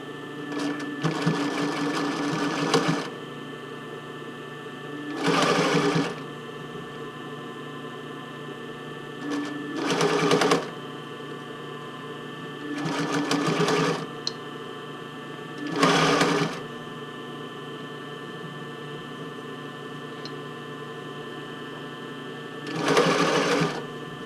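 A sewing machine stitches the fitting band of an Eve Classic bra in six short bursts of rapid whirring, each a few seconds long, separated by quieter pauses with a steady background hum.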